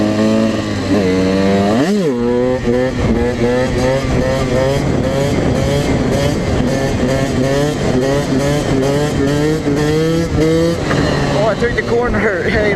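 A KTM EXC 125cc two-stroke dirt bike engine screams loud and close throughout, with a sharp rev burst, then steady high-pitched revving through rising and falling gear pulls, with a rider speaking briefly over it.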